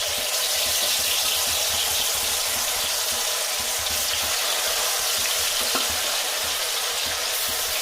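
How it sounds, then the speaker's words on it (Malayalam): Chicken pieces fry in hot oil with a loud, dense, steady sizzle and crackle that stays close and constant throughout, with no voices. "നമുക്ക് ബാക്കിയുള്ള ചിക്കനോട് നമുക്ക് വറുത്തെടുക്കാം."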